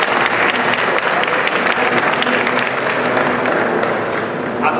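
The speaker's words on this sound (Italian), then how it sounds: "Alex, ti facciamo un applauso di incoraggiamento." Thick, continuous applause from an audience at a cooking show with chef Maurizio De Pace at the Braida di Casa restaurant, warm and even throughout as encouragement for a participant.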